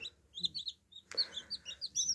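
Newly hatched Padovana chicks peep in quick, high, repeated chirps close by, with a brief sharp knock midway through. The surroundings are otherwise quiet and no one speaks.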